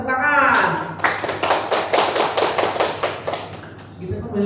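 Rhythmic clapping in a school setting, roughly a dozen sharp, evenly spaced claps in unison, close and fairly loud, following a brief voice at the start.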